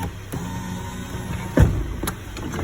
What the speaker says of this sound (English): Now at this point, I gotta raise the window up.